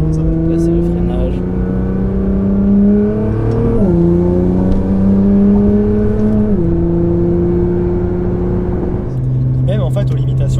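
A 700 hp Nissan GTR Stage 3+ rumbles loudly while driving, a deep steady engine drone with shifting pitch as gears change, close up inside the car under people talking.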